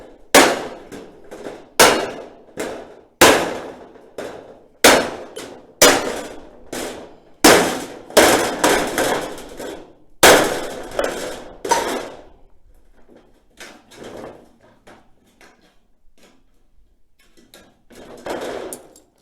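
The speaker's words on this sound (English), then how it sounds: "we're back up at the shop now, flattening out all the tin" Old sheets of tin are hammered flat in a workshop with a series of loud, sharp metallic blows, a steady pounding for about twelve seconds. Softer, scattered taps and clanks follow.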